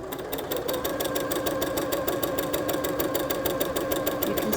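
A Janome sewing machine runs a straight stitch with a regular, fast needle rhythm and a steady motor hum, close up and continuous throughout, with no talking.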